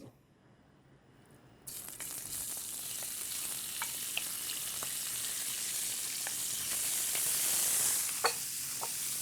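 Shrimp hit hot olive oil in a pan and burst into loud, continuous sizzling that swells and crackles with small pops, close up and with no talking.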